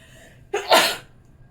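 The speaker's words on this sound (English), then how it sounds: "I got to sneeze." A single sneeze, close and loud, with a brief breathy intake before a sharp burst that fades quickly into quiet.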